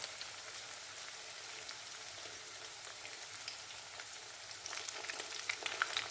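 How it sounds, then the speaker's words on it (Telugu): Ingredients for chicken biryani fry in a pan with a continuous, crackling sizzle, fairly quiet and close, growing slightly livelier toward the end. "ఇలా బాగా ఫ్రై చేసుకోండి"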